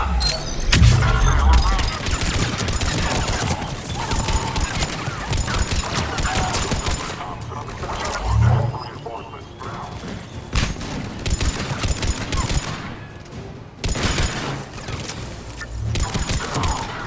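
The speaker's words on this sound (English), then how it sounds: "The hand cannon from Mass Effect 2 there." Hand cannon gunfire in the Mass Effect 3 video game, heavy bursts and booming shots amid rapid battle fire, loud and near, repeating in clusters over a dense combat din.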